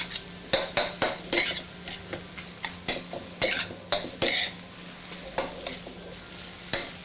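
Crumbled VeeTee rice stir-fried in a hot pan for restaurant-style pork fried rice, with a steady sizzle under repeated sharp scrapes and clatters of a utensil against the pan, close and loud.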